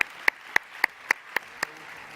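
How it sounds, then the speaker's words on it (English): A handful of slow, evenly spaced claps ring out at an awards ceremony during the IAS 2017 members meeting, about seven crisp distinct hand claps, close and fairly light, with no one speaking. "Let's give another round of applause for all of the ANRS IAS winners."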